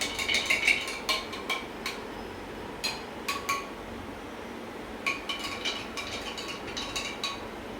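A spoon stirs beetroot juice with black pepper in a glass, making bursts of quick, light clinks and taps close by, with quiet pauses between the stirring spells.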